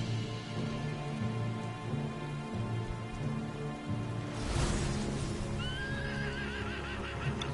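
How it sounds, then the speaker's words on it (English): A giant horse in the Final Fantasy 16 video game neighs loudly with a rising, wavering whinny near the end, after steady clip-clop hooves over a rain-like backdrop and low rumble. "Shut up, you stupid little giant horse."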